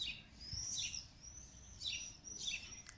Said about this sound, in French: I love to hear the birds sing.